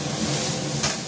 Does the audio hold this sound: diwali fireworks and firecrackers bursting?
no